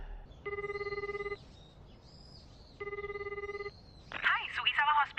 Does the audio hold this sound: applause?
no